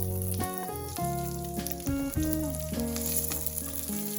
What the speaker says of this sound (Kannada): ಇದಿಷ್ಟನ್ನು ಮೊದಲು ಫ್ರೈ ಮಾಡೋಣ.